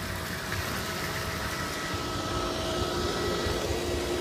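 A backyard pool pump in Las Vegas, Nevada, routes water through the heater to the hot tub jet, giving a constant, close broadband rush and hum with no pauses.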